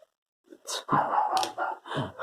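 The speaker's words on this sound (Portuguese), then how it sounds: "Estão escutando o latidinho no meu cachorrinho?" A small female shih tzu gives a few quick, high yapping barks in a close, quiet room, with no talk over them.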